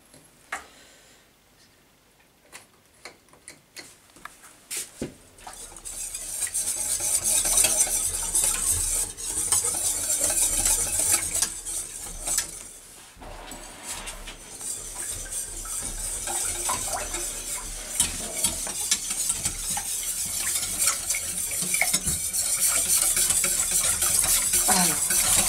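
A whisk stirs steadily in a saucepan over high heat, scraping and clinking against the metal while food sizzles underneath, after a few quiet taps at the start.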